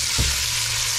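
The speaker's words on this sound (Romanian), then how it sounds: "Întâi dăm față la carne și la cărnați." Pork meat and sausages brown in a pan, a steady close sizzle with two brief stirring scrapes at the start and end of the short moment.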